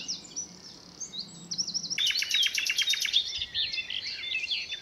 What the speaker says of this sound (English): Don't know if that's a song thrush